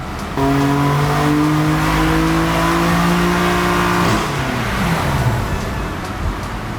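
BMW F80 M3 with an Eventuri intake revving hard on a dyno, engine pitch climbing steadily through the run, then dropping away as the throttle lifts, loud and close.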